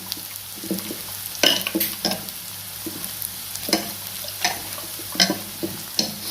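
A spoonful of flour worked into chicken curry in a pan, with a steady sizzle beneath repeated spatula scrapes and knocks against the pan at an uneven rhythm, close by.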